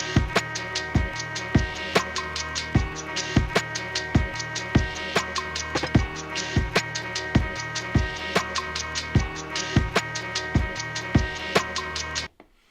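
A gritty 90s hip hop beat programmed on a Maschine MK3: punchy kick and snare hits in a steady looping groove layered over a chopped sample, loud and continuous before stopping abruptly at the end.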